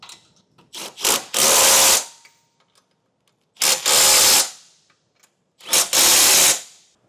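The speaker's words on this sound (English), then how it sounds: "Now we'll tighten all of our hardware down" A power tool tightens hitch hardware on a 2022 BMW X6, sounding as three loud, close bursts of whirring and ratcheting, each starting with short taps, with quiet pauses between.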